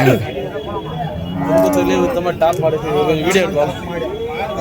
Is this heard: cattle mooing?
yes